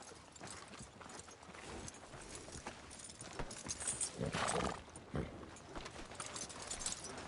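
Hooves of a horse clip-clop along in Red Dead Redemption 2, a continuous walking rhythm over outdoor game ambience, with a louder burst of movement midway.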